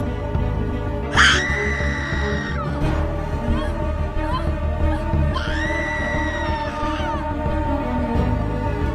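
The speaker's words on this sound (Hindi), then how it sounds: "तुम चीख क्यों रही हो?" A woman screams twice in a horror story, with high, piercing cries rising sharply over a dense, dark background drone, and a pause of a few seconds between the two.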